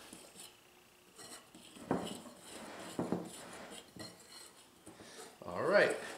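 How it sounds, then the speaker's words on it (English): Flour and ground cinnamon whisked together in a bowl for coffee-and-spice drop cookies, heard as a few close, scraping metal taps against the bowl with a brisk clattering burst near the end. "1 teaspoon of ground cinnamon. And then just give this a good whisk."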